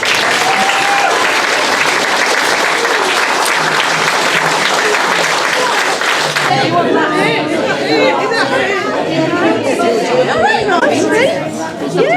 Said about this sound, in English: I think they do need a round of applause in their own right